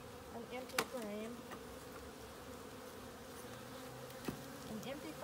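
Honey bees hum steadily inside an opened top bar hive during an inspection, a low continuous drone with a couple of brief knocks from the bars or frames.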